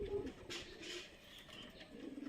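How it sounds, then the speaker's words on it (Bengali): Native domestic pigeon cooing close by in a quiet setting, soft low throaty coos repeating over a couple of seconds. "এখানে এক পিস দেশি কবুতর রয়েছে"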